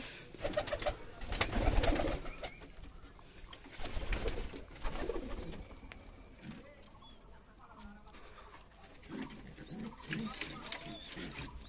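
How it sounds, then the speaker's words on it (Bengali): Giribaz pigeons coo and flutter nearby in their loft, with soft scattered bird calls and occasional rustling, while a person talks intermittently. "চলে এলাম আমার পায়রার ঘরে পায়রাগুলাকে উড়াবো এখন"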